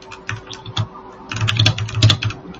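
Quick, uneven keystrokes on a computer keyboard clatter close by, a sparse burst of clicks followed by a denser flurry, with no talking.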